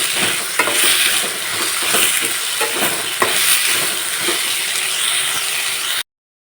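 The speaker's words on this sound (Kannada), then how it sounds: "ಅದರದ್ದು ಹಸಿ ವಾಸನೆ ಹೋಗುವ ತನಕ ಎಣ್ಣೆಯಲ್ಲಿ ಹುರ್ಕೊಳ್ಬೇಕು" Chopped vegetables and capsicum fry in hot oil with a loud, continuous hissing sizzle, broken by occasional stirring scrapes. Then it stops abruptly into silence.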